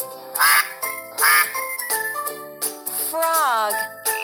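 A cartoon duck quacks in a kids' animal puzzle game, several loud bright quacks mixed with tinkling chime effects and a rising sweep, over light background music.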